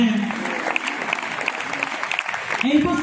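Audience applause at a franchise recognition event, a dense, steady wash of clapping that fills the whole stretch, with a voice briefly heard at the start and end.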